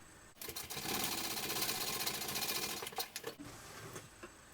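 Sewing machine stitching a fabric baby sling, a close steady mechanical whirr of rapid needle strokes running for several seconds, stopping and restarting briefly near the end.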